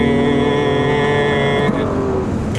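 Engine of a 2016 midsize SUV at full throttle, a loud steady drone with no gear shifts, holding one constant tone throughout.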